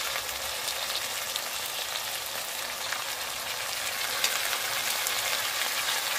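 Mutton keema frying in a pan with onion and tomato gives a steady, even sizzle that runs loud and unbroken throughout, with no talking.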